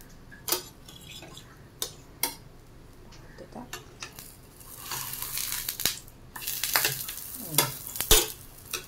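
A thick batter, heavier than dosa batter, fries in oil spread across a pan, giving a sizzle with scraping, clinking and stirring noises from a utensil. The sound is close and uneven and swells toward the end.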